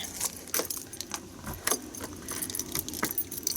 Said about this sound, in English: Again, all the keys. Hang on. Let me lock this back.